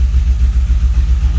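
A 1981 DeLorean DMC-12 idles just under 900 RPM, slightly high, with a loud, close, steady low-pitched engine rumble that pulses evenly and carries no talk.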